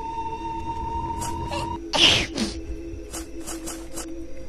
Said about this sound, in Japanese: かわいいくしゃみだな。